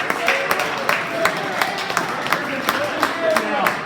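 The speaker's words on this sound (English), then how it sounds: "let's give them all a round of applause" Audience applause at a school wrestling awards ceremony, steady clapping with sharp individual claps over a room's murmur, moderately loud and close, lasting a few seconds.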